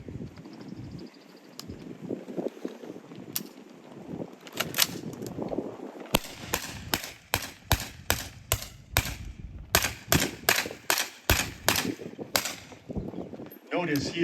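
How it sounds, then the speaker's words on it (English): An M16A2 rifle fired outdoors on semi-automatic, a long string of sharp single shots in an uneven rhythm, first scattered and then coming faster, over wind noise on the microphone. "Notice he is firing on semi-automatic. Every trigger pull results in one shot fired."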